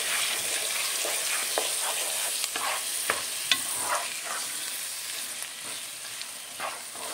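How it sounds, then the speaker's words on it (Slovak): Chopped beef sizzles steadily in a pot, with a loud continuous frying hiss broken by scraping clicks and knocks as a utensil stirs the meat. "Teraz si pridáme mesko, ktoré sme si nakrajali."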